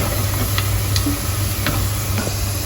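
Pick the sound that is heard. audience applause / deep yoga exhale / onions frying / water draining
onions frying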